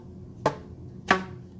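A stretched rubber band is plucked twice, about half a second apart, each time giving a short, moderately loud twang that fades quickly. The two plucks stand alone against a faint background.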